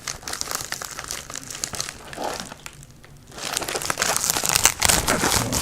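A priority mail envelope is torn and crinkled open by hand, a loud continuous papery crackling that pauses briefly midway, then resumes more intensely.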